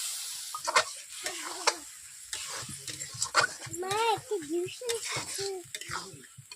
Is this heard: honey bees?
no